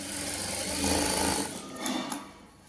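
A sewing machine stitches a pocket onto palazzo pants in short bursts, a close mechanical whirring chatter that speeds up, pauses briefly and runs again before trailing off.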